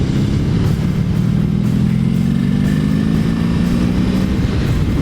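Honda V65 Magna motorcycle fitted with a single-pipe chromed Mac aftermarket exhaust, its engine running loud and close with a steady rumble that slowly rises in pitch as it revs over several seconds, with no talk.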